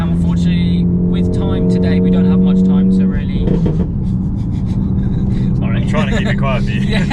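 A 500bhp widebody Ford Focus ST drones steadily from inside the cabin while driving, a loud continuous engine hum with a sustained low tone, while someone talks over it throughout.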